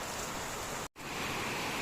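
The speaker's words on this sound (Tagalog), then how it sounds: "Ang lakas ng ulan." Heavy typhoon rain as a steady, dense hiss of downpour, broken once by a brief cut in the sound.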